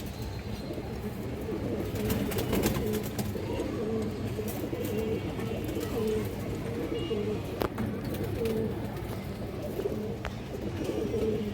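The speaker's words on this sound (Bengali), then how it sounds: "এই যে দেখেন হারিকেন কবুতর" Hurricane pigeons cooing in a loft, a continuous low chorus of overlapping coos with occasional wing flutters, under someone talking.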